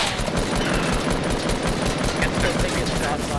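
Rapid, dense Fortnite gunfire from a player shooting, a steady stream of closely spaced shots that runs the whole time over busy game sound.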